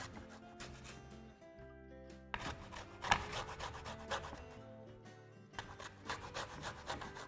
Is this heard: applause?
no